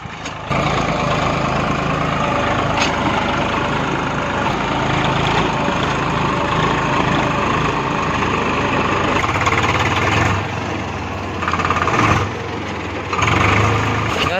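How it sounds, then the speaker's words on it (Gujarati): A tractor engine idles on a Saurashtra farm field, a close, steady low rumble with a few brief dips and bumps in loudness. "આવ્યો આપણે ટ્રેક્ટર"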